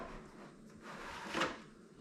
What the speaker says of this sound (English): Oh, we got a drawer.